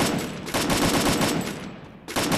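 Automatic weapons fire rattles through a squad fight in Free Fire, dense and loud. The bursts run close together, with a brief lull before the shooting resumes.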